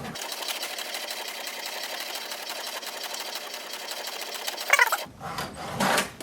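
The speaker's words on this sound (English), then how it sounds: "It has started to print." An HP DeskJet 4100 inkjet printer prints a document, a close, rapid rhythmic mechanical whir and chatter that cuts off near the end, followed by a couple of brief clunks and rustles.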